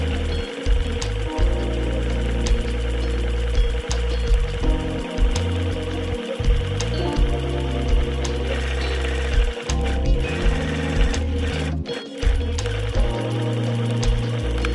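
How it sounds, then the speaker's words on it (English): A sewing machine stitching down a folded edge of fabric on a gown bodice, running as a close, steady rapid mechanical whir with brief stops and restarts. "then I pressed and folded over about a centimeter of the fabric and sewed it down"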